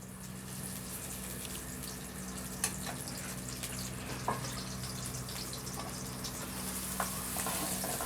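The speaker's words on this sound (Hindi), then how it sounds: "घी डाल देंगे, इसको गर्म होने देंगे थोड़ी देर। अब हम इसमें प्याज डाल देंगे" Onions frying in hot ghee in a pan for aloo palak, giving a steady, even sizzle and hiss throughout with a few faint clicks, no voices.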